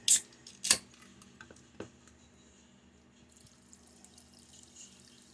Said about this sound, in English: I'm going to take half of this Bud Light and I'm going to pour it over the top of it